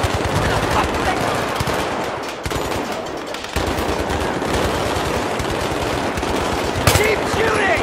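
Battlefield 3 combat brings sustained machine-gun fire, dense and rapid bursts running almost without a break, with a short lull in the middle before the firing resumes, while other fighting noise fills the background.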